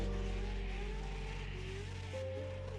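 A BMW S54 straight-six engine screams steadily at high rpm during a drift competition, harsh and continuous, with slight pitch shifts, faint and distant in the mix.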